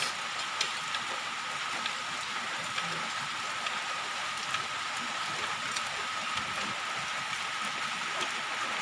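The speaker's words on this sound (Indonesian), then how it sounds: "hujannya lumayan deras" Heavy rain falls steadily outdoors at an oil palm loading site, a dense continuous hiss of drops on surfaces with occasional louder splats and no speech.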